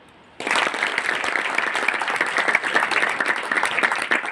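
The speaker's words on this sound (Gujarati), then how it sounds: "પાડો તાળી।" Applause from an audience of students at an Ayurveda college curriculum session breaks out after a brief hush, then holds as loud, dense, steady clapping to the end with no talking.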